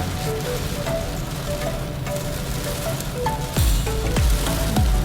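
Heavy rain pounds a car's roof and windshield during a drive, with the automatic wipers on their fastest setting. A dense, steady wash of patter continues throughout, with a few low thumps near the end and no voices.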